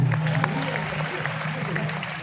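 Brief applause from a hasya kavi sammelan audience at the Ratnawali Festival 2022, moderate clapping with a low hum and crowd murmur beneath it.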